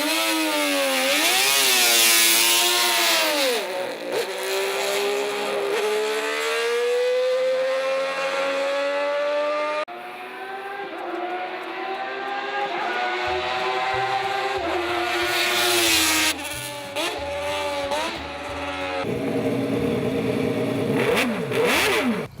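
A custom-built six-cylinder motorcycle engine revving hard, loud and close, its pitch sweeping up and down through repeated throttle blips, alone with no voices.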